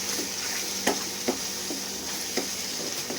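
Kashmiri aloo dum masala frying in oil as a spoon stirs it through the pan, a constant close sizzle broken by a few soft scraping strokes.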